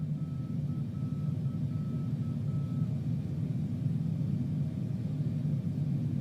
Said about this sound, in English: The beeping from the VOR and the ILS station on ground there.